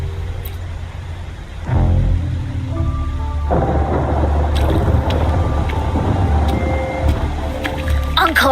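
Video-game thunderstorm: a deep rolling thunder crash breaks in after a quiet start, then steady heavy rain and low rumble continue loudly to the end.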